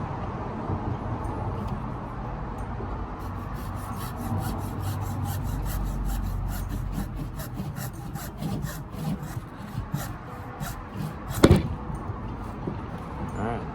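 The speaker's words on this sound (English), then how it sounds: "this other branch here is pretty thick, so I'm gonna go ahead and cut it with the hacksaw too" A hacksaw works through a thick plumeria branch in steady back-and-forth rasping strokes, close and moderately loud, with a sharp snap near the end.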